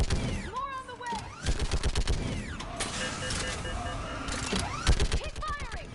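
Rapid bursts of automatic gunfire and explosions in a video game battle, dense overlapping shots up close with voices shouting beneath the din.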